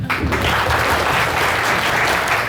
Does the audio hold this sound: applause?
yes